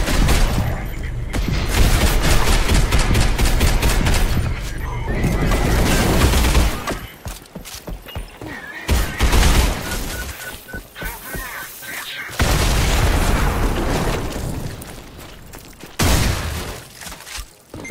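Gunfire in the video game Selaco rattles out in heavy, rapid bursts with booming impacts and shattering debris, loud and nearly continuous with short gaps between volleys.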